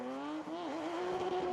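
Andros Trophy race cars battling closely, including the number 15 car: a high, strained engine whine that dips and swoops in pitch, then climbs back and holds, moderately distant with no voices.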